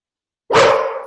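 A single loud dog bark, close by, after a moment of silence.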